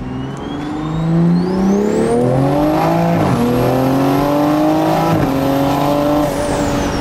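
A big-turbo Toyota A90 Supra with a stock BMW B58 engine pulls hard through second gear, its loud engine note climbing steadily in pitch with a brief dip at each shift, with turbo whine riding above, all close and continuous without talk.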